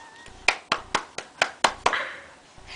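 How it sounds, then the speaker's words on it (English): A young child's hands clapping indoors at home, about seven sharp claps in an uneven rhythm, close and fairly loud, with a little background noise. "Can you do some clapping?"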